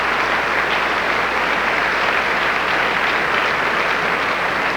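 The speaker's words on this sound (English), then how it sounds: "So would you please applaud all of the Hawaiian musicians" Steady, dense applause from a large audience at the 1993 Na Hoku Hanohano Awards for Hawaiian music, holding at an even, loud level throughout with no voices on top.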